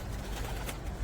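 Pigeons kept in a loft coo softly and steadily over a low background hum, with a brief burst of flapping or rustling partway through; no one speaks.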